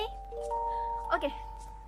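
Notification bell sound effect, a few sustained chiming tones ringing together at steady volume with a faint steady hum underneath.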